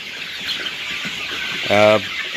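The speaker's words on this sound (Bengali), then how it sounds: "দেখেন ভুট্টা ফার্মেন্টেশন পদ্ধতিতে কীরকম খায় মুরগি দেখেন" On a farm of about fifteen hundred Sonali hybrid chickens, the birds feed on fermented maize. A low murmur of feeding gives way to one loud, close, drawn-out cluck near the end.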